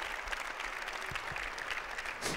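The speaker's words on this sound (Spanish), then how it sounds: "Y aplauso para ellos también." Steady applause from the audience of a basketball coaching talk, continuous clapping at a moderate level that swells briefly near the end.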